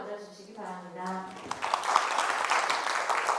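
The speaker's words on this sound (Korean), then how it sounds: "큰 박수로 맞아주시기 바랍니다" Audience applause in a lecture hall welcoming a KAIST robotics and AI research professor to the stage, a dense clapping wash that swells after a brief spoken introduction and continues steadily to the end.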